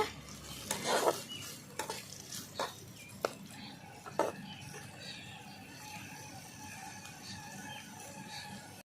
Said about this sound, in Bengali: এবার কুদরিগুলো দিয়ে দেবো সব ভালো করে একটু লাল করে ভেজে নেব